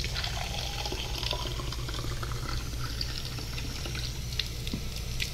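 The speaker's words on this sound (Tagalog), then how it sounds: "kuha tayo ng tubig" Water runs from a tap into a container in a kitchen during cooking, a steady unbroken rushing splash with scattered drips and bubbling, filling the background at moderate level without talk.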